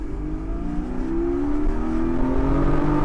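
A 2023 Porsche 718 Boxster GTS engine pulls hard from inside the car, its note rising steadily in pitch and loudness as it accelerates over a few seconds, with no talk.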